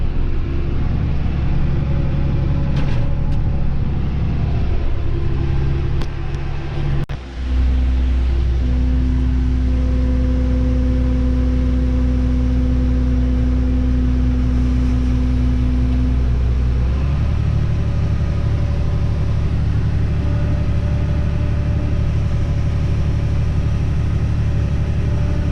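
A tractor engine drones steadily while pulling a grain cart, a loud, continuous low rumble with a shift in pitch partway through and no talking.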